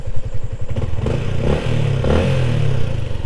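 A 2023 Sniper 155 VVA motorcycle in Dark Battleship Gray idles close by after starting, a steady engine rumble with a few mechanical clatters, rising slightly in loudness, with no talk over it.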